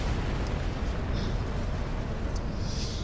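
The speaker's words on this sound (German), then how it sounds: "Der ganze Bildschirm ist nur am explodieren." Constant dense roar of on-screen explosions from the action video game Asura's Wrath, a loud, steady broadband rumble with no breaks and no talk over it.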